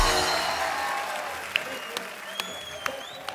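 Studio audience applause on a Hindi comedy talk show set, a dense broad wash of clapping that fades steadily while a few sharper individual claps stand out near the end.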